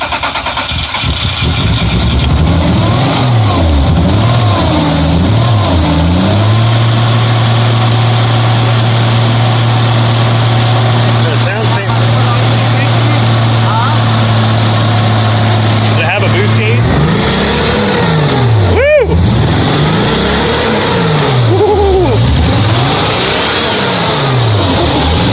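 The engine of a Toyota Supra that sat unused for ten years runs loud and close, idling and then revving up and down in repeated swells. People talk over it throughout.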